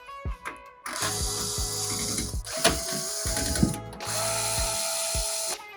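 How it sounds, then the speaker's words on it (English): A screwdriver driving screws to fix a motherboard into a PC case, with three close bursts of rapid mechanical ratcheting whirs separated by short pauses and small clicks. "Motherboard in, time to make sure it stays in place with a few screws."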